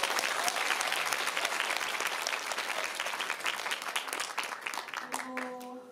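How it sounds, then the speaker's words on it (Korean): Audience applause at a women filmmakers' awards ceremony, a dense sustained clapping that fills the hall and slowly thins, with a voice starting to speak over it near the end. "축하의 인사와 함께 3년 동안 공익공무를 잘하고 오시라고 응원의 박수를 한번 보내주시고 싶습니다."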